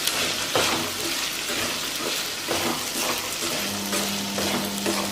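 Chopped vegetables for poha upma sizzle and fry in a pan while a spoon stirs and scrapes them in repeated strokes, close and fairly quiet.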